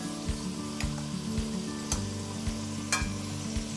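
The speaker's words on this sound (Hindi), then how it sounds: "इसी के साथ हम ये 2 हरी मिर्चें जो हमने काटी थी वो भी डाल देते हैं, उसको भी हल्का सा सौते कर लेते हैं।" Green chilies sautéing in a pan for a Kashmiri apple-eggplant dish, a steady close sizzle with faint stirring scrapes and a few soft clinks of the spoon against the pan.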